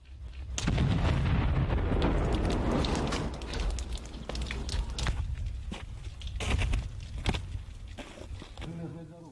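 A loud, deep blast erupts as an unexploded grenade round is detonated, then a rumbling roar that slowly fades, with scattered sharp cracks and debris sounds afterward.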